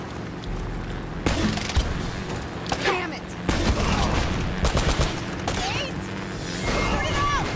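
Gunfire in Uncharted: Drake's Fortune, loud bursts of rapid shots and sharp impacts erupting repeatedly over several seconds amid a busy game soundscape.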